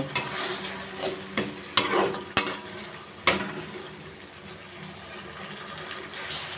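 Spices sautéed with salt and turmeric powder in a pan, with a low, constant sizzle broken by a few sharp metal clinks and scrapes from a spoon, fairly close and without speech.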